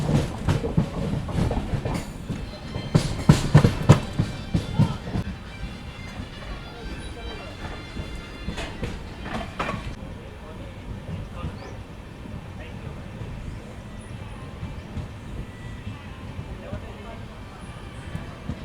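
The 17023 Tungabhadra Express runs on rails between Kacheguda and Kurnool City, with rhythmic clickety-clack beats loud early on, then easing into a steady rolling rumble beneath faint, indistinct voices.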